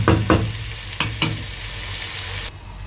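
Tomatoes frying in a pan for spinach palak, a steady close sizzle with a few sharp scraping bursts from stirring near the start, then the sizzle continuing alone.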